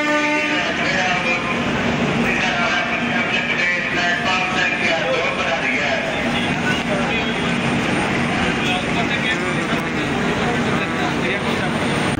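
A train on the 12353 Howrah–Lal Kuan Junction weekly superfast service pulls out of Pt. Deen Dayal Upadhyaya Junction, giving a steady loud rumble of wheels and carriages with a continuous drone throughout.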